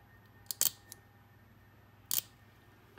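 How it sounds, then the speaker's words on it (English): Cutters snipping small pieces of 18 karat white gold hard solder at a jewelry repair bench: two sharp, close clicks about a second and a half apart over quiet room tone. "I've cut the solder"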